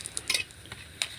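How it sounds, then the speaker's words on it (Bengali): Papad frying in hot oil, with a few quick clinks and scrapes of a utensil against the pan over a soft sizzle, close and fairly quiet, all within about a second. "পাপড়গুলো ভেজে নিচ্ছে।"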